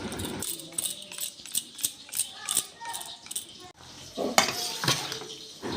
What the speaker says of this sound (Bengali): ভালো করে মিশিয়ে নেওয়া হচ্ছে।